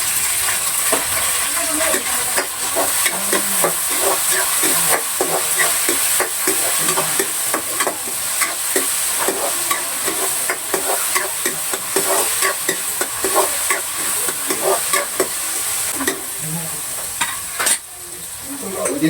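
Tomatoes, garlic and onion sautéing and being crushed in a pan, a steady loud sizzle with repeated stirring and scraping scrapes throughout, no talking.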